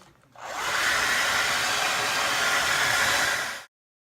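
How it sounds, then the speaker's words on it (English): A hair dryer blows steadily on long hair treated with serum, a loud continuous whooshing rush that starts abruptly, holds for about three seconds, then cuts off. "Now that I have the serum all over my hair, I'm going to blow dry it."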